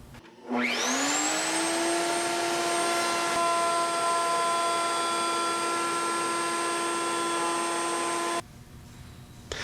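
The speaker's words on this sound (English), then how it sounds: "Now I can go ahead, set my router bit's height, and make a test cut." A table-mounted router with a freshly sharpened bit spins up quickly into a loud, steady, high-pitched whine. It holds that whine for several seconds, then cuts off abruptly near the end. No one speaks.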